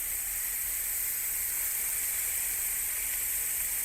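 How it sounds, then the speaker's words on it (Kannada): King fish fillets fry on a tawa in coconut oil with a steady, even hiss and sizzle, constant and close with no talking. "ಸ್ವಲ್ಪ ಇನ್ನೊಂದು ಸೈಡಿಗೆ ಸ್ವಲ್ಪ ಕೊಕೊನಟ್ ಆಯಿಲ್ ಹಾಕುವ, ಇನ್ನೊಂದು ಸೈಡ್ ಕೂಡ ಅದೇ ಥರ ಫ್ರೈ ಆಗಲಿ."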